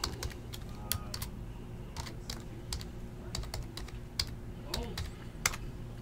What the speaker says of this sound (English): Let me type the email in here.